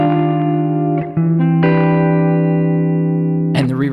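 Electric guitar through an Alabs Cetus reverb pedal at maximum pre-delay, playing sustained chords that bloom into a lush wash of reverb, with a few chord changes and a brighter strum near the end.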